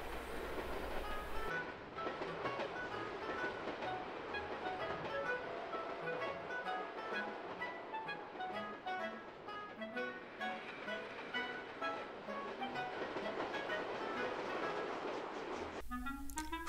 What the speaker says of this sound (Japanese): モズ港を発車するこちらの特急、そうですよね、キハ183系オランダ町特急ですよね。